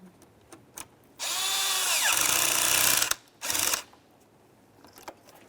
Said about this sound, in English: Let's tighten this clamp.